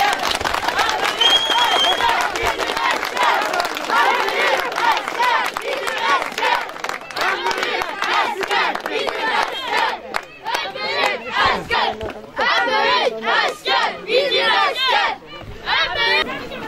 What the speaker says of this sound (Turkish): Ben gazimizi alkışlayalım.